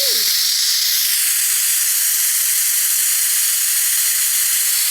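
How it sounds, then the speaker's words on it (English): Steam blasts from a pressure cooker's release valve after cooking a whole chicken, a loud, steady, unbroken hiss that stays close and constant throughout. "I'm going to release the steam."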